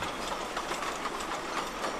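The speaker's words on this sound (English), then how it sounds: "Approaching the level crossing, the train slows down." A train on the Gulbene–Aluksne railway slowing as it approaches a level crossing, giving a steady, fairly quiet rumble with faint rhythmic wheel clatter and no voices.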